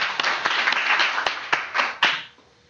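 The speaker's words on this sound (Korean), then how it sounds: "박수로 환영하면서 시작하겠습니다." Applause from a small group welcoming the start of a reading discussion session, with a few distinct claps standing out over a steady patter that dies away near the end.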